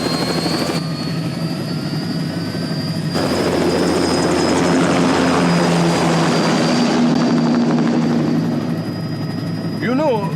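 Aircraft engine roaring steadily during takeoff in the Metal Gear Rising: Revengeance game, a loud continuous rotor-like drone with rising whine, a brief voice-like chirp near the end.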